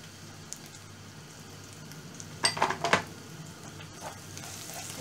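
Mint, black pepper and chili flakes stirred together in a pan for anchovy pilaf: a faint steady sizzle underneath, with a short burst of louder scraping and clinking stirring near the middle.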